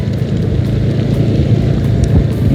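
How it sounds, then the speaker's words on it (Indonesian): Steady rain falls at a road construction site where hot asphalt is being laid, giving a dense, even hiss mixed with low wind rumble that carries on unbroken. "Memang kondisinya hujan ya teman-teman."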